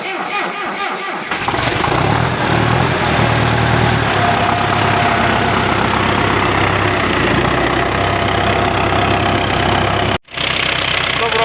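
An MTZ tractor engine runs close by, a loud steady diesel chug that starts up after a quieter moment and holds an even idle, with a momentary dropout near the end.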